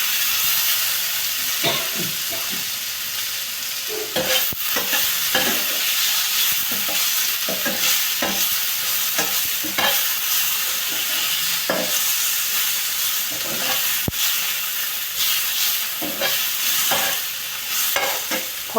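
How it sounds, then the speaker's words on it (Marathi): Tomatoes being stirred into a hot oil tempering in a pan, a continuous sizzle broken by repeated scraping and clattering strokes of a spoon, close and fairly loud, with no voices. "टोमॅटो घातल्यावर मिक्स करून टाकू."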